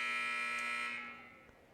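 Scoreboard buzzer at a high school JV basketball game sounding to end the first half, a loud, sustained electronic tone lasting about a second before fading into the gym's background.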